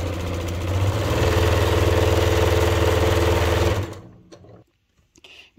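A sewing machine stitches the seams of a linen tote bag, humming in a steady, loud whir close by for about four seconds before stopping abruptly into near silence.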